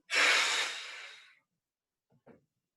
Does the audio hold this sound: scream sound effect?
no